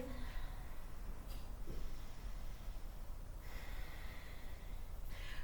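Slow, audible breaths in and out are taken while holding a yoga pose, close to the microphone over steady background hiss, with no talking.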